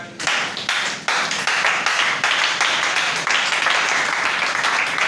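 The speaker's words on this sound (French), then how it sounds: "Acclamons très fort" A congregation at a church service claps loudly together in quick rhythmic beats, a dense sustained round of applause that carries on steadily throughout.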